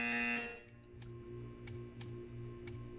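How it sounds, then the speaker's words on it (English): Game buzzer from Portal 2's art-gallery test room: a loud opening tone that cuts out, then a steady rhythmic pulsing alarm repeating about every second beneath a low electronic hum. "You will hear a buzzer."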